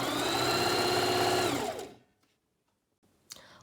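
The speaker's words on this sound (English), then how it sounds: "begin to sew towards yourself, stopping halfway to ensure that we have enough space to flip the mask inside out" A sewing machine runs steadily for about two seconds while stitching elastic onto a fabric face mask, then stops, leaving near silence broken by a faint handling click.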